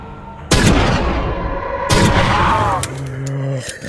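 Heavy S&W 500 revolver shots in the Roblox game Project Lazarus, a few loud booming blasts with reverberant tails, one near the start and another midway, over a steady game background.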